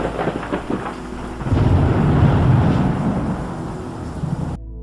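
A thunderstorm rolls through with a deep, sustained rumble of thunder that swells near the middle and stays loud, rain and wind noise mixed in, before cutting off abruptly near the end.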